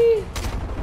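Guards firing guns in Fortnite: a short tonal chirp, then a quick, fairly loud burst of gunfire that trails into low rumbling game noise.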